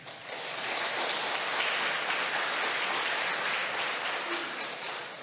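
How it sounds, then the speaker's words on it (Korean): Church congregation at a Wednesday worship service breaks into sustained applause, a dense, steady wash of clapping filling the hall for several seconds before easing slightly at the end. "우리 박수 한번 하십시다."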